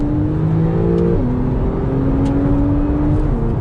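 Porsche 911 4S accelerating hard in second gear, a loud steady engine roar with rising harmonic pitch and a brief shift-like dip near the one-second mark, heard from inside the car without talk.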